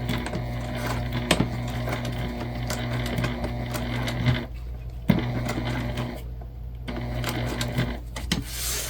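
A sewing machine stitching slowly across the metal zipper teeth of a bucket bag, a steady close mechanical whir with clicking ticks, pausing twice briefly before running on again.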